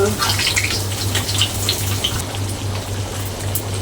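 Steady crackling sizzle of dried fish frying in hot oil, dense and close, with a faint low hum running underneath.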